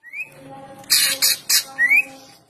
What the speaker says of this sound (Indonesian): Dari segi suara, cucak ijo Kalimantan tidak terlalu nyaring dan lantang